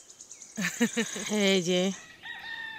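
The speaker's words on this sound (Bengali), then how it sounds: "ওই যে ওখানে মুরগি ডাকছে" A chicken calls loudly and close by at a rural hillside vegetable farm, a long rising-and-falling crow with a few choppy notes before it, and someone speaks briefly just before it.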